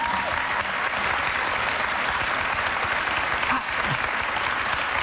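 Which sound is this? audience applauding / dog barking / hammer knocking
audience applauding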